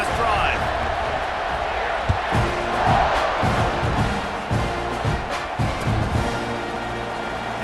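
Stadium crowd in a football video game roaring after a touchdown drive, a continuous loud wash of cheering with rhythmic thumps and claps, while a commentator talks over it.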